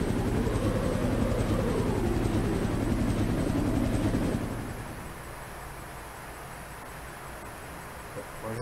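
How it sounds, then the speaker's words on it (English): In the Resident Evil 1 video game, a loud helicopter rotor drone fills the first half, then fades to a quieter hum with insect-like chirring in the background. "Helicopter, come on, get out of here."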